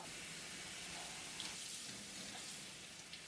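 Water is poured and swapped in a bowl where meat is being thawed. A continuous soft rush of running water fills the whole stretch, with faint splashing and no talk.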